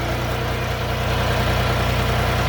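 A 2023 Shifeng 244 mini tractor with forced hydraulics idles close by, its engine running with a steady low throbbing rhythm and constant loudness, with no voices over it.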